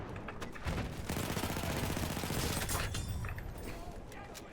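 Gunfire from Battlefield 1 plays through a dense, loud stretch of shots and explosive bursts, with rapid firing packed over a steady roar of battle noise and occasional player voices.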